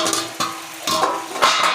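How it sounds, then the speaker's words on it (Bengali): Prawns are stirred in a pan with a spatula, giving several sharp scraping clatters of metal on the pan at irregular intervals over a faint sizzle, close and fairly loud. "এই যে চিংড়ি মাছ দিয়ে দিলাম, আর এখন নাড়াচাড়া দিয়ে আমি নামিয়ে নেব।"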